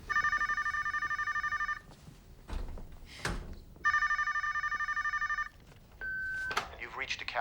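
A telephone rings at a home in two long trilling bursts separated by a pause, loud and close, followed by a short answering-machine beep and a voice speaking.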